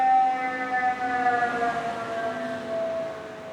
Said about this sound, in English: You're about to hear a siren.